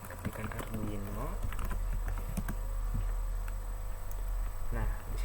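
Brief key taps on a computer keyboard as the word Arduino is entered, a few scattered clicks sitting under a constant background hum and low noise.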